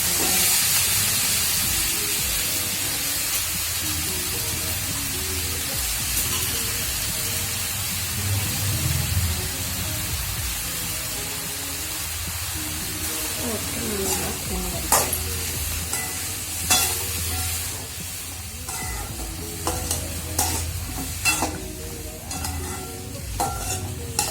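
Mixed vegetables for kurma sautéing in a pan, a continuous close sizzle and hiss with stirring scrapes that grow sharper and more frequent toward the end.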